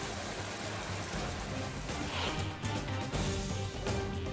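Steady monsoon rain pours down during a continuous downpour over Mumbai and Konkan in Maharashtra, a dense, even hiss of drops on surfaces that holds at a constant level throughout, with no voices.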